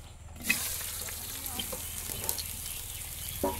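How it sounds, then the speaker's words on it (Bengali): Onion and garlic hit a pan where fish tripe has just been fried, giving a steady close sizzle that starts abruptly after a brief quiet moment and continues with faint stirring and scraping throughout. "তো এখন দেবো পেঁয়াজ রসুন,"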